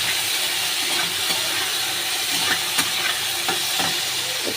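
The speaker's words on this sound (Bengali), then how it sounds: "ভাজতে ভাজতেই টমেটো আর কাঁচা লঙ্কাটা দিয়ে দেব।" Tomato and green chilli frying in a pan for a potato and fish curry, a steady broadband sizzle with scattered stirring clicks and scrapes, close and continuous with no talk.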